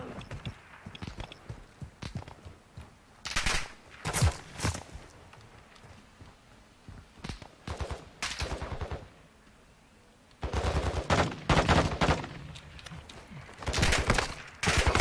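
Bursts of automatic gunfire rattle in Modern Warfare 2022's DMZ mode, sharp clustered volleys that come in several loud bursts separated by quieter gaps, with no talk over them.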